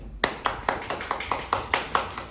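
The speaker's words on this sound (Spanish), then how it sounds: "Démosle un fuerte aplauso, por favor, a nuestro invitado de esta noche." A small audience claps for the guest at an education talk show, each clap distinct and evenly spaced, close and moderately loud, a sparse rhythmic patter rather than a roaring ovation.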